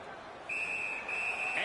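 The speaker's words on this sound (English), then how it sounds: "And the referee's whistle has stopped play." At a hockey game, a referee's whistle blows a single long, shrill blast that stops play. It rises clearly over a low crowd murmur and arena ambience.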